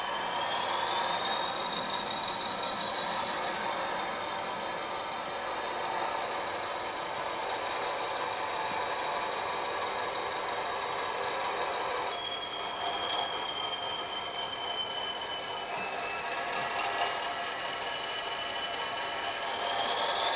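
Bachmann Class 40 model diesel locomotive with DCC sound pulling into a station, a steady engine drone with long high wheel squeal across the run, loud and continuous with no talk.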